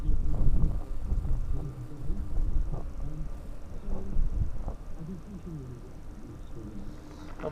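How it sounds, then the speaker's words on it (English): Loud, rumbling outdoor wind buffets steadily on a night riverbank, with gusts swelling and easing over the whole stretch and no speech. "Obviously the wind's blowing about."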